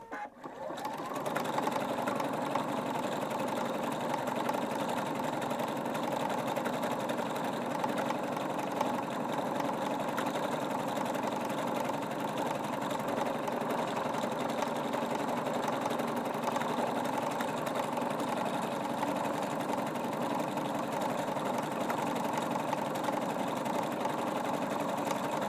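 A Husqvarna Viking Brilliance 75Q sewing machine stitches a decorative script alphabet, running as a steady, even mechanical whir that holds without a break throughout.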